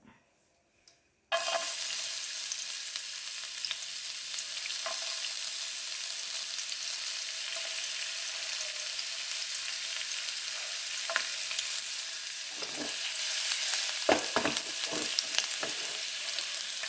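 Ginger and garlic drop into hot coconut oil in a worn clay pot: a quiet start gives way to an abrupt, steady sizzle, later joined by a few soft stirring scrapes, close and with no talking.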